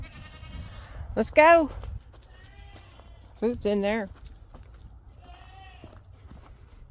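Goats on a farm give two loud, wavering bleats close by, with a fainter bleat later, while a person talks briefly between the calls.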